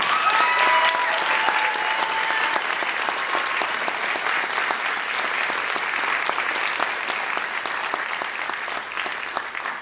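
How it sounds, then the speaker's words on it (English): An audience at a Houston Latino Film Festival Q&A applauds, a sustained, dense roar of clapping from a large crowd, loud and even for the full length, with a brief cheer early on. "we need to applaud the Houston Latino Film Festival for bringing it here"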